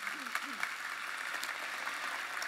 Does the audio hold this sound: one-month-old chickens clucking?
no